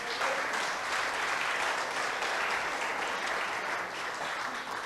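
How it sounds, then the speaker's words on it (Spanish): A church congregation claps together in sustained, dense applause, an even wash of many hands lasting several seconds without pause. "¿Le puedes dar un aplauso al Rey?"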